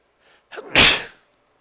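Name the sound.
sneeze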